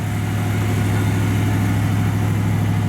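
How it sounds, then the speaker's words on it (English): On a cold day, a 1964 Chevrolet Chevelle Malibu SS convertible with dual exhaust idles high with the choke on, a steady, loud, close engine drone with a constant low hum and no other sounds. "It's idling a little high right now, the choke's on."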